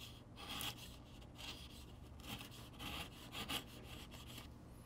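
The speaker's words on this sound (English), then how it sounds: "I'm going to take my chisel and clean up this area in here, just with some cross-grain paring" A chisel pares across the grain of wood in a half-lap joint, a series of soft, close scraping strokes with slight pauses between them.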